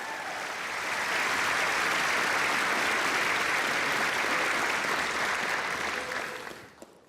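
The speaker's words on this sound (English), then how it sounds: "Another round of applause, please." Sustained applause from a large audience at a university convocation ceremony, a dense wash of clapping that swells quickly, holds steady for several seconds, then fades out at the end.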